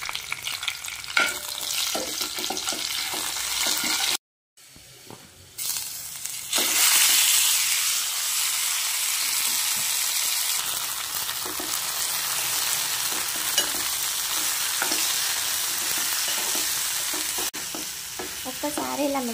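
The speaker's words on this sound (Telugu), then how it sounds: "ఇంకా ఇక్కడ వచ్చేసి పోపు పెట్టుకుంటున్నానండి." Spices for a tempering crackle and sizzle loudly in hot oil for a grated raw mango pickle, with stirring scrapes and a steady frying hiss that continues after a brief silence.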